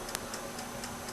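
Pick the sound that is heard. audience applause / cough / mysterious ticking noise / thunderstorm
mysterious ticking noise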